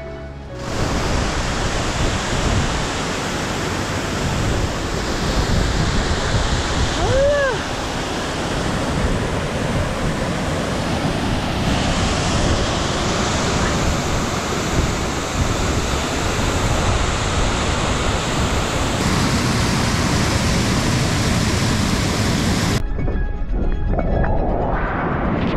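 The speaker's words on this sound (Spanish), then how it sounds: "Qué río" Steady broadband rush of a flowing river at Tonachi, close and continuous for most of the stretch, with a few faint high chirps partway through before it cuts off near the end.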